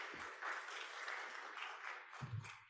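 Symposium audience applauding, a moderate wash of clapping hands that swells and fades over a few seconds at a middling distance.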